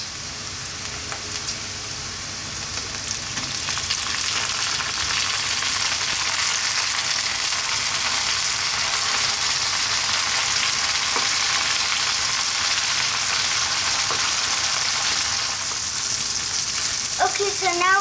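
Tomatoes sizzling and frying in a pan for mushroom cream pasta, a loud continuous hiss and crackle that builds early and holds steady, with occasional stirring clinks.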